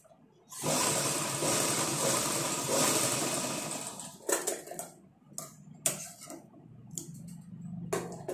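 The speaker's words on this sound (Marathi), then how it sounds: "डबल स्टिच करते मी." A sewing machine double-stitching a blouse runs in one loud, steady burst for about four seconds, then stops and starts in several short, sharp runs.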